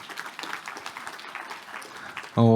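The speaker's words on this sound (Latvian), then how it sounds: "ar aplausiem" Conference audience applauding a speaker at an education event, a short burst of scattered hand clapping from a seated room that ends abruptly.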